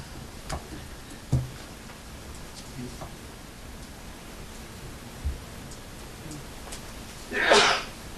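A single sharp sneeze bursts out near the end of a budget meeting, following a few faint ticks and rustles in an otherwise quiet room.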